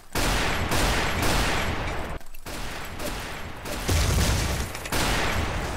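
Bursts of loud weapon fire in the online shooter Build and Shoot, a fast rattling volley that runs for about two seconds, pauses briefly, then resumes in several more near, heavy bursts.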